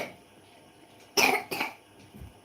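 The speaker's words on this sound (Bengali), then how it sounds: "তারপরে কাশি দেখেছো কাকে বলে কাশি" Two sharp, close coughs come in quick succession from a single person, followed by a faint throat noise, in an otherwise quiet room.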